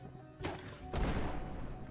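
Two quick, muffled gunshots in the video game Core Keeper, about half a second apart, faint and distant over a low background rumble.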